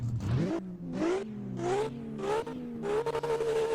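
A twin-turbo car engine in a Roblox racing game revs hard through several rising bursts, pitch climbing then dropping at each gear shift, loud and close.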